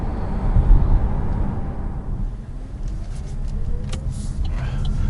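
Low rumbling road and suspension noise inside an Opel Mokka-e electric car while driving, a steady dull drone with occasional thumps and faint squeaks over a stiff ride.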